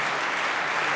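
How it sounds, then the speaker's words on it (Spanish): Audience applause at the Premio Juan de Mariana 2009 award ceremony, a dense, steady wash of many hands clapping at once, loud and close, filling the whole moment without voices. "Un aplauso, por favor."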